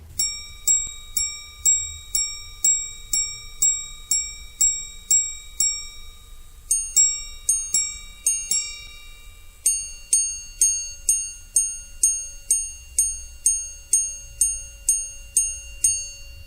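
A minute repeater watch strikes a sequence of bright, high tones: a run of low-high paired dings, then a faster series, each ringing clearly in near silence.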